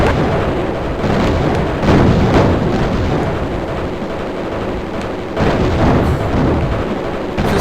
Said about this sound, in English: you literally drop a nuke, and everything in the sky that isn't you disappears